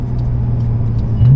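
A Porsche 992 Turbo S accelerates on a motorway, its engine holding a steady loud rumble and rising in pitch toward the end of the short burst.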